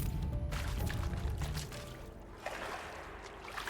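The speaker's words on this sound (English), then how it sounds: "Why did you just swim in a puddle?" Aloy splashing and wading through a puddle in Horizon Zero Dawn, close, watery sloshing and pouring sounds that are strongest early, then ease into softer trickles and small splashes.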